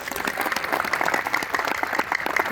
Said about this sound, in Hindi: तो इनके लिए एक बार जोरदार तालियां बजाइए।